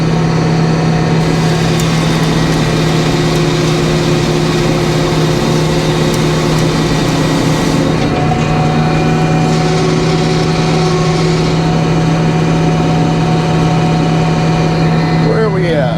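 A sawmill engine runs at a steady, loud drone throughout while a cherry log is sawn in cold weather, with someone speaking over it.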